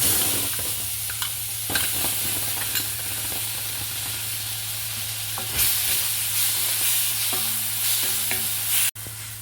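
Spinach paste frying and being stirred in oil in a pan, a steady sizzle with occasional spoon scrapes and clicks throughout, close and continuous with no talking.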